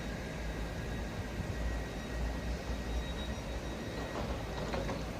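Southeastern class 465 unit 465193 pulls away from Dartford station on the 1625 London Charing Cross to Gillingham service, giving a steady, low, broadband rumble that holds fairly quiet and even throughout, with no voices.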